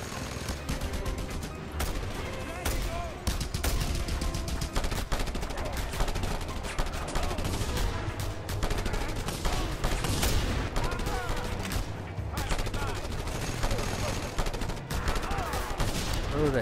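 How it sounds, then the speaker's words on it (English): A mounted gun in the Just Cause 2 video game fires rapid, dense bursts of loud gunfire near a shrine, running almost without a break along with explosions. "Another mounted gun by the shrine!"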